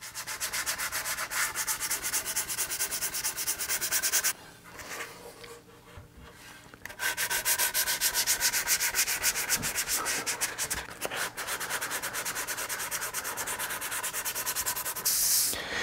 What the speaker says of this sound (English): Now you'll notice I'm sanding in a circular motion